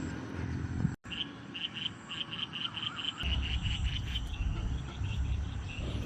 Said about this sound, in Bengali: সেই সাথে ব্যাঙের ডাক